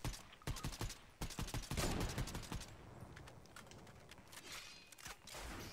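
Pistol fire in Fortnite, Star Wars edition, with rapid bursts of close shots in the first two seconds, then sparser shots and game noise.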